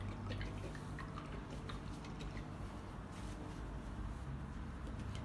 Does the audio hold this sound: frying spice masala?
no